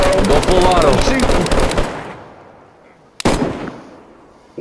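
Full-auto AK rifle fire in DayZ during a base raid, a loud rapid burst lasting about two seconds and then fading, followed by a single sharp shot.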